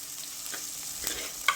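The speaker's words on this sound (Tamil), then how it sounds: "இந்த வெந்தயம் இந்த சின்ன வெங்காயம் நல்லா நேரம் வதங்கும்போது அவ்வளோ ஒரு வாசனையாக ரொம்ப நல்லா இருக்குங்க" Fenugreek seeds and small shallots sautéing in oil for a fish curry, a soft, even sizzle close by with a couple of faint stirring clicks near the end.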